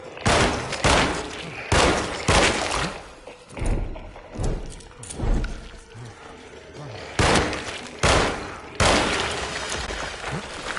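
Gunshots ring out in the Alone in the Dark video game, loud broadband bursts repeating irregularly over about ten seconds with thuds between them.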